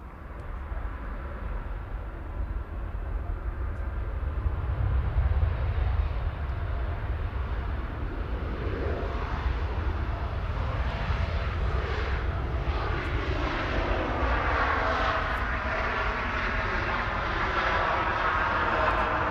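A Ryanair jet airliner at Manchester Airport, a steady loud roaring engine rumble that holds throughout, broad and continuous with no speech.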